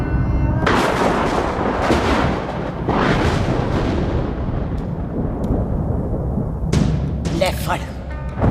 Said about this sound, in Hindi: मार दी सारी गोलियां उसकी छाती में